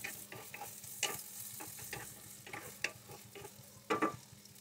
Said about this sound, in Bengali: আমি 4টা পেঁয়াজ কেটে নিয়েছি আর 4-5টার মতো কাঁচামরিচ। এটা হালকা বাদামি করে ভেজে নেব।